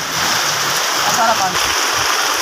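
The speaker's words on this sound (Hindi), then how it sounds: "बहुत ज़्यादा बारिश है" Heavy rain falls steadily, a dense broadband hiss that stays loud and constant from start to finish, with no talk over it.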